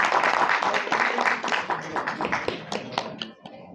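A burst of applause with scattered clapping, loud at first and then thinning out toward the end.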